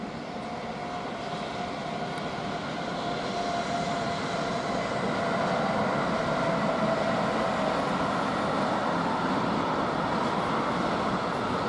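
A Railpool class 186 electric locomotive hauling a freight train toward the Brenner gives off a steady rumbling roar that slowly swells louder as it draws nearer, with a faint tonal whine and no talking.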